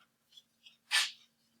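A single sharp sneeze, preceded by a couple of quiet breaths in an otherwise quiet room.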